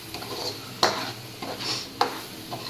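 Bitter gourd fry is stirred in a pan, with a soft sizzle under two sharp metallic scrapes of the spoon and lighter stirring sounds between them.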